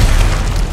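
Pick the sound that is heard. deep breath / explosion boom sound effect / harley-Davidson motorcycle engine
explosion boom sound effect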